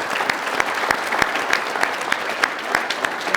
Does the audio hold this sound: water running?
no